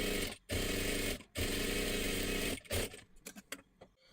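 A sewing machine stitches a blouse neckline in loud, steady whirring runs, stopping briefly twice, then finishing with a few short stuttering bursts and clicks; no voices.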